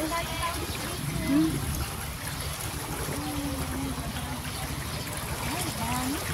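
Floodwater from Super Typhoon Carina flows in Montalban in a steady rushing, trickling wash. It runs continuously and fairly close, with faint voices in the background.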